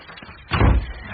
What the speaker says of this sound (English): Lock the door.